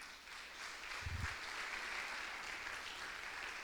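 Steady applause from a church congregation fills the whole stretch, a dense even wash of many hands clapping, with a brief low thump near the start.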